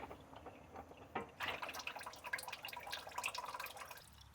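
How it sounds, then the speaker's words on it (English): Engine oil drains from a 2014-2017 Buick Regal Turbo Sport during an oil change, a faint, close trickle and steady patter of liquid falling into a pan that continues for several seconds. "We got both of them draining out right now."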